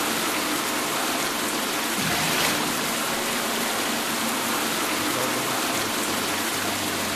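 Wild rushing water in a VRChat game, a loud steady broadband roar like a torrent or waterfall that fills the whole scene without pause.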